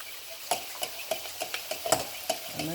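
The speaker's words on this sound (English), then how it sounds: "All right, stir it up." A utensil stirring shrimp seasoned with all-purpose seasoning in a pan, with spinach and eggs cooking too: quiet, steady scraping taps about twice a second over a soft continuous sizzle.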